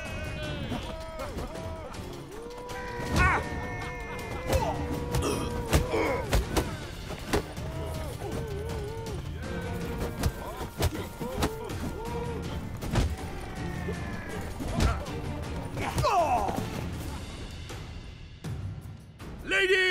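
An arena fistfight in The Witcher 3 plays out as heavy thumps and slamming punch impacts over a busy backdrop of crowd noise and grunting voices, with speech throughout.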